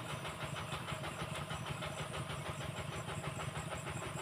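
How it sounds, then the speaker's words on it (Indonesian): A diesel water pump engine drones steadily and loudly, a continuous rumbling chug with no pauses. "mesin pompa air"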